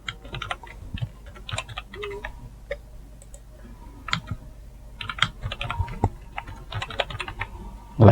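Fingers type on a computer keyboard during setup of a TP-Link CPE210 outdoor Wi-Fi unit, steady clusters of close, crisp key clicks with brief pauses between runs.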